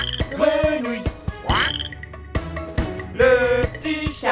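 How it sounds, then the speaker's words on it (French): Loud, close frog croaks repeat in uneven bursts, each a rough, rasping call with short pauses between. "La grenouille, grenouille, grenouille."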